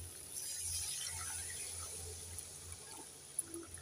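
Warm water pours steadily into a pan of potato and aubergine curry for rui fish jhol, a soft continuous splashing rush close by, ending with a small clink.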